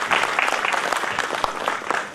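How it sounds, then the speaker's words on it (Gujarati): An audience at a centenary-year school society event welcomes a speaker with warm, sustained applause, dense overlapping claps at an even, fairly loud level from start to finish. "ખૂબ તાળીઓથી વધાવી લેશો"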